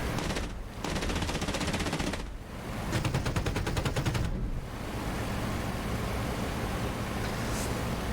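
Rapid bursts of automatic gunfire from two 12.7mm machine guns and a 30mm cannon in DCS World, several long rattling volleys separated by short pauses, loud and close over a steady inverted V12 engine drone.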